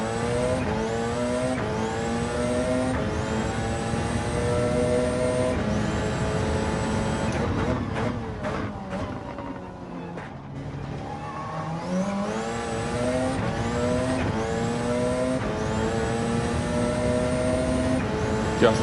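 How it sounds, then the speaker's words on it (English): A GR1-class race car in Gran Turismo 7 at Spa screams through its low gears, its engine climbing in repeated rising sweeps and bouncing off the rev limiter, with a brief dip in the middle before it revs hard again, loud and steady throughout. "Just reached the rev limiter so quickly in those low gears"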